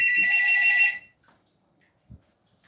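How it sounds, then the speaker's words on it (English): A phone rings with a bright electronic trill for about a second, then stops, leaving near silence and a soft thump. "My phone is ringing."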